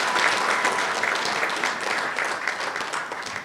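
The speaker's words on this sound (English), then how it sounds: "Another round of applause for all our fantastic girls." Dense, loud applause from the audience at a CMU-Africa graduation ceremony, greeting the graduating girls, sustained throughout and tapering slightly toward the end, with no voices over it.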